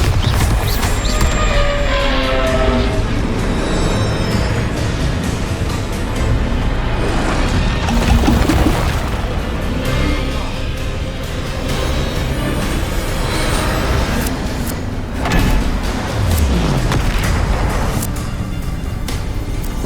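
Bombarda blasting-spell explosions in the game Hogwarts Legacy, with dense crashing and rumbling impacts filling a loud, continuous stretch of chaotic destruction.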